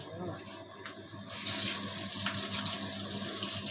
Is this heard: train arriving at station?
no